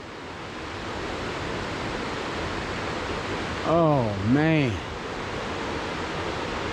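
Steady broadband rush of many small waterfalls cascading down the Chattooga River, continuous and fairly close, with a brief man's exclamation partway through.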